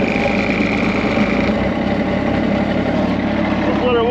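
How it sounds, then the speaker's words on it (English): A tractor engine idles steadily at close range while warming up to run a water pump for filling a lake section, a constant rumbling drone with a faint higher whine through all four seconds. "This is not quite a big enough tractor for this pump."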